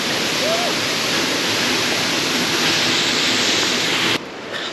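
Steady roar of a waterfall in a Slovenian winter landscape, a dense continuous rush of falling water heard close and loud throughout, dropping slightly near the end.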